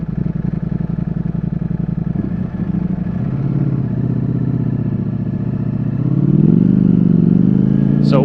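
A 2022 Ducati Streetfighter V4S rides through New York City, its V4 engine giving a loud steady rumble that swells as the rider accelerates near the end, with wind noise and no talk.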